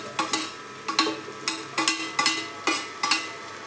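Potatoes, cabbage and cauliflower frying in oil for masala khichdi, with a run of soft scraping stirs recurring roughly every half second, close and moderately quiet over a faint steady sizzle.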